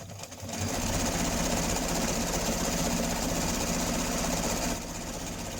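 Sewing machine running steadily while hemming a chair cushion, a loud continuous mechanical whir with a constant motor hum that holds for several seconds before easing off near the end.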